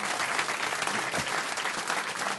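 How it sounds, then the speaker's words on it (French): A studio audience bursts into dense, loud applause as Marc Lavoine enters a comedy radio-TV show, sustained clapping throughout with no pause. "Très applaudi et il ne le mérite pas forcément"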